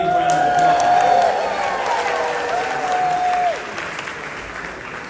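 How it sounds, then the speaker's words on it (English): Applause from an audience greeting a red carpet team of young people at a duck march event, sustained clapping with a raised whistle or cheer, tapering off after a few seconds. "Can we give the red carpet team a big round of applause?"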